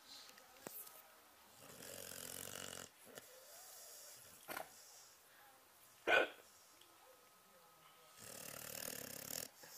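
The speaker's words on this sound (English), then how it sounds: "Oh my gosh, she's snoring." Soft, slow snoring breaths rise and fall in a quiet room, with a sudden louder snort partway through.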